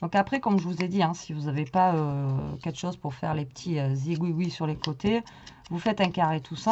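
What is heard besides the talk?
No everyday noise stands out behind the speech.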